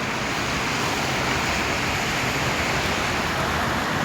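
Rain falls on a Kuwait street while cars pass over the wet road, a constant broadband wash of spray and downpour without any clear breaks or speech.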